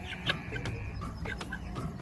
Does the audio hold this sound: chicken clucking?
yes